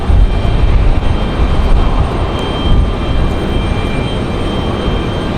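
A Delta Boeing 737-900 airliner bound for Atlanta passes at Raleigh-Durham airport, its loud, steady broadband roar filling the whole stretch with no one speaking.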